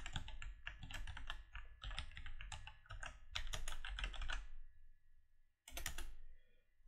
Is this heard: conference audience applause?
no